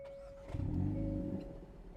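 A 2022 Hyundai i30N engine starting, a brief cranking rise into a throaty burst of revs that settles back toward idle, close and moderately loud over a faint steady tone.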